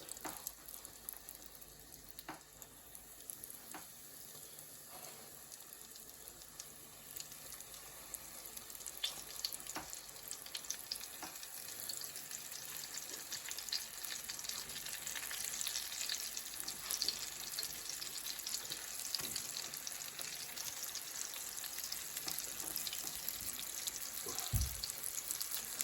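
Breaded potato croquettes, rolled in egg and breadcrumbs, frying in oil in a home kitchen: a quiet, continuous sizzle with scattered pops and light clicks throughout.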